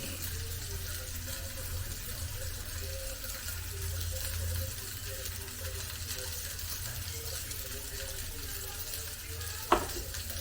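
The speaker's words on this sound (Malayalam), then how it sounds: "ഞാനെല്ലാം ഇളക്കി യോജിപ്പിച്ചിട്ടുണ്ട്" Jackfruit seed stir-fry cooking in a pan, a low continuous sizzle with a low hum beneath and one sharp scrape or clink near the end.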